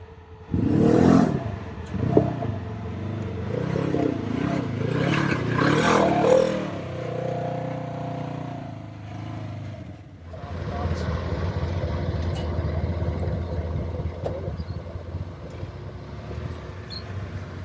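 A UTV with a rescue squad grinds along in two-wheel drive over steep, uneven ground, its engine a steady close drone that swells and settles, with voices over the first half.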